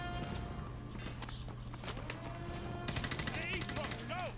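Rapid bursts of gunfire in Call of Duty: Modern Warfare 2 during the snowy Cliffhanger campaign mission, repeated shots over steady game ambience and footsteps, with electronic beeps and whistling tones near the end.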